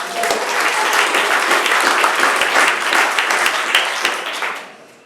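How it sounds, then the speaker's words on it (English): A live audience at a humor presentation claps in a dense, loud, sustained round of applause that fades out near the end. "Give a nice round of applause."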